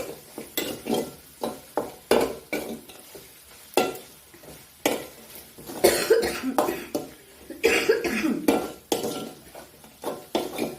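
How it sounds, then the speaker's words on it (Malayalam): A person coughs repeatedly in a kitchen while onions fry, a series of loud close bursts spread through the stretch with clinks of a pan and stirring between them. "ചുമയാ ചുമ ചുമ ചുമ"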